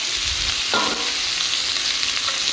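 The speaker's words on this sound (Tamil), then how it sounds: "தக்காளி சேர்த்து கொஞ்சம் வதங்கினப்புறம் பார்த்திங்கன்னா நம்ம வெட்டி வச்சுருக்கிற இந்த சொரக்காயும் சேர்த்து நல்லா வதக்கலாங்க" Tomato and chopped bottle gourd sauté in a hot pan with a steady, close sizzle, with a brief scrape of stirring near the start.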